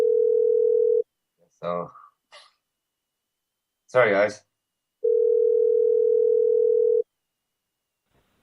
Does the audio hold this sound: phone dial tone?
yes